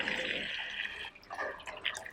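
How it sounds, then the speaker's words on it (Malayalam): Boiling water pouring over a shark in a village kitchen, a steady near splashing and trickling stream that thins and breaks into scattered drips toward the end. "ഇതിനകത്തേക്ക് നമ്മൾ തിളച്ച വെള്ളം ഒഴിക്കുകയാണ്"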